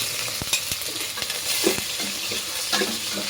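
Onion and garlic sauté in a little oil in a pan for a creamy carbonara, hissing steadily up close while a spoon stirs and taps against the pan in irregular knocks.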